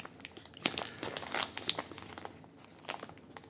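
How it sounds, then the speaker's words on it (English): A plastic bag from a DJI Mic 2 unboxing is ripped open by hand, a close burst of crinkling and tearing rustles with sharp crackly peaks over a few seconds. "I guess we just rip it open."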